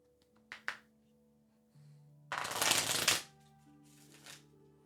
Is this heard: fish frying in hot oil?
no